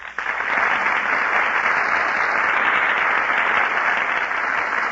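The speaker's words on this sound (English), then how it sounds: "That applause you hear, ladies and gentlemen, is for Alice Faye, Herbert Marshall, and Humphrey Bogart, who are just entering our Gulf Theater stage." Studio audience applause in a radio theater as film stars Alice Faye, Herbert Marshall and Humphrey Bogart walk onto the stage, a dense, steady roar of clapping that swells in almost immediately and holds at full strength throughout.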